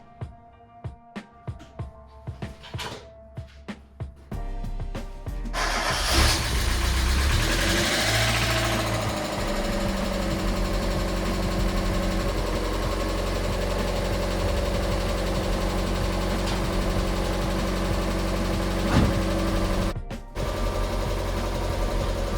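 A 1.6L Mazda Miata engine with a repaired short-nose crankshaft turns over in a series of rapid starter pulses. It then catches and settles into a steady, loud, close idle that runs on alone.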